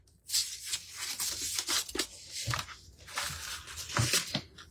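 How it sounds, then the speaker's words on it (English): A knife is drawn through craft material during a back-to-school project. It makes several close, rough tearing and scraping strokes in uneven bursts, with no talking. "Let me run my knife through this one more time."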